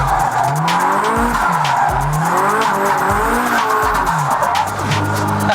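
A drift car screeches through a corner in a Kansei drift, the engine roaring loud and close while the tires squeal in repeated sweeping howls that rise and fall.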